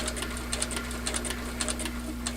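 A Slickbald Class 4 quilting sewing machine stitches at roughly two stitches per second, giving a steady run of soft, close mechanical ticks over a constant motor hum.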